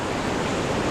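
Class III whitewater rapids on the Middle Ocoee River rush and splash around a kayak, a dense, loud, steady roar of churning water close by with no talking.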